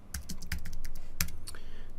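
Rapid, close keystrokes on a computer keyboard while typing code, a quick uneven run of crisp clicks with brief gaps, quiet and alone.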